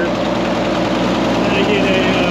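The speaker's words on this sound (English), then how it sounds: "tractors out again, playing around with them" Tractor engine idling steadily at close range on a plow day, a continuous low rumble with a broadband mechanical hum throughout.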